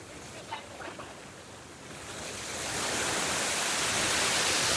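Loud rushing water swells from a moderate hiss into a dense, steady roar that fills the second half, with faint voices near the start.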